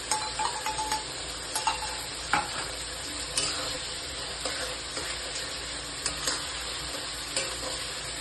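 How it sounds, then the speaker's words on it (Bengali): Chicken sautéing with onion paste in a pan for chili chicken, a constant sizzle broken by repeated stirring scrapes every second or so, close and moderately loud, no talk. "ভালো করে একটু কষিয়ে নেবো।"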